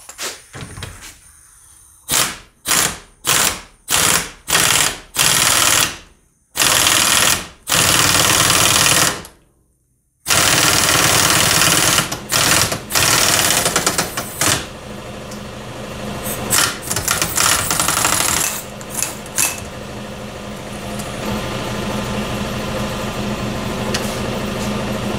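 Bushing driven into the control arm of a 1968 Ford Galaxie with a press tool and cup, sounding as a run of loud, sharp, evenly spaced impacts, then longer harsh bursts and a steady mechanical rumble, with no talk.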